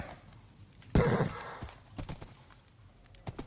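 A Minecraft horse gives a loud snorting whinny, followed by a few soft clopping hoof steps at an uneven pace.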